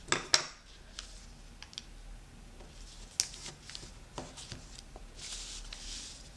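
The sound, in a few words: paper being folded to make a Christmas star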